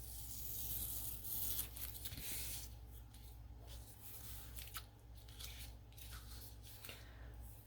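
Scissors snip and trim off small extra bits, giving quiet, close crisp cuts and rustles in a short irregular series, with no talk.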